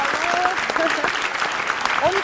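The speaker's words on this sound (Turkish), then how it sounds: "Bize de bir alkış o zaman." Applause rises from a studio audience on a Turkish talk show for the clarinet trio Taksim Trio. The clapping is steady and fills the short moment, and speech runs over it.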